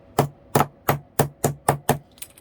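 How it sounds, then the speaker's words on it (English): Seven sharp, evenly spaced metallic strikes as a bottle cap is hammered flat, followed by a faint tinkle. "So you have to smash the sides flat"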